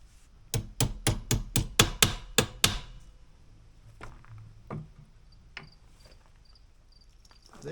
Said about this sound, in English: Hammer to tap it up.